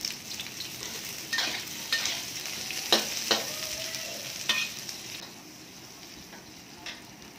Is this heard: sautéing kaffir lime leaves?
yes